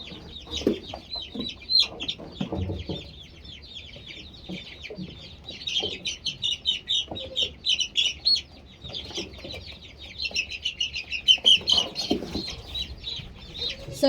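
Many little chicks peep in dense, continuous high chirps close by, with a few clucking sounds from chickens mixed in beneath.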